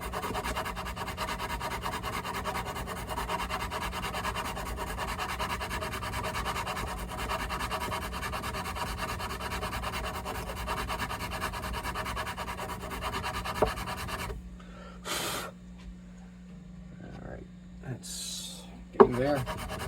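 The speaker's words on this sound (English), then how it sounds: "we got a short sanding fret block with 220 on it" A short fret sanding block with 220-grit paper rasps steadily across a guitar headstock, a continuous close scraping that stops near the end and leaves a few brief handling knocks.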